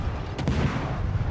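A single heavy naval gun blast booms over a constant loud rumble in World of Warships, a short sharp report followed by a rolling decay.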